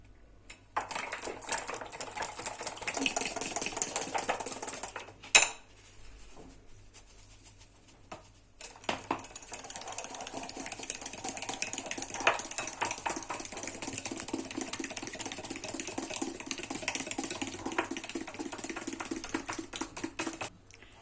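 Batter seasoned with salt and black pepper is beaten in a bowl, giving a rapid, continuous clicking of a utensil against the sides with one brief pause and a sharp knock midway.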